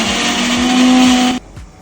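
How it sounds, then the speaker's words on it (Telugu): A mixer grinder whirs loudly and steadily, grinding fried onions, garlic, chilli powder and cumin, then cuts off abruptly, leaving a brief quiet rattle. "ఇప్పుడు దీన్ని మెత్తగా గ్రైండ్ చేసుకోవాలి"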